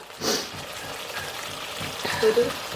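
A spoon stirs dried shrimp pickle with salt in a hot pan, giving soft scraping and a gentle sizzle, with a couple of louder stirs near the start and end.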